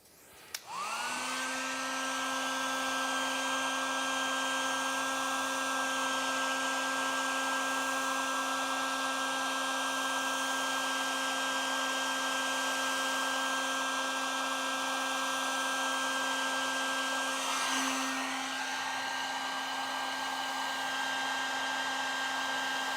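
Heat gun warming part of an off-road front bumper on a Ford Transit, a steady high-pitched whirring blow that starts abruptly and runs continuously near the microphone, with a brief wobble in its pitch partway through.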